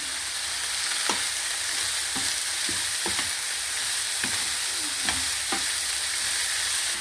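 Chopped banana flower stir-fries in a pan with green chilli and salt, a steady loud sizzle with occasional scraping stirs of a spatula throughout.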